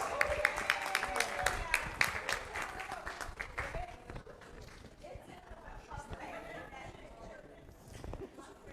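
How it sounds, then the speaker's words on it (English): A burst of clapping from the audience at a fundraiser auction in an opera house, crisp at first and then thinning into scattered claps, murmurs and chatter as it fades. "She said yes. Give her a round of applause."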